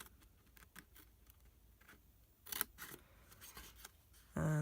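Scissors snip through patterned card stock along a score line while making a gift box, a series of quiet, close crisp cuts spread unevenly over a few seconds, ending with a louder steady noise.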